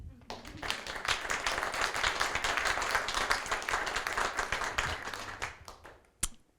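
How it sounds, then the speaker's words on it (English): Audience applause at a business presentation on a climate survey in the Baltic States, a steady wash of many hands clapping that swells, holds and tapers off, with a few last isolated claps at the end. "I really want to give them an applause"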